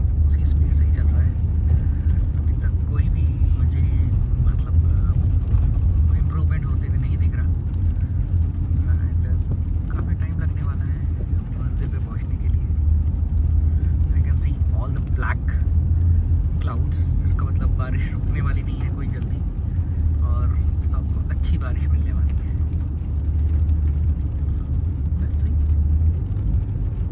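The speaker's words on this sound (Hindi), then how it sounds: "तो जो ट्रैफिक है वो उसी स्पीड से ही चल रहा है।" Steady road traffic drives past in winter rain in Kuwait, a continuous loud low rumble of car engines and tires with faint hiss, unbroken throughout and with no voices standing out.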